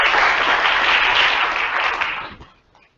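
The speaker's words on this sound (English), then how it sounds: "Let's have a warm welcome and round of applause for our speaker." An audience welcomes a speaker at an evening technical talk with a burst of sustained clapping from many people that holds steady, then fades out over the last second.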